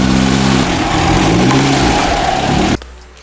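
A car engine revs hard and loud, close by, during an attempted skid, its roar rising and shifting in pitch before cutting off abruptly near the end, leaving near silence.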